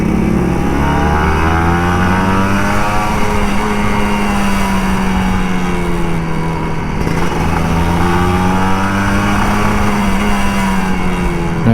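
Motorcycle and car engines in a morning traffic jam: a loud, continuous close engine drone with slowly wavering pitch, steady throughout, with no talk.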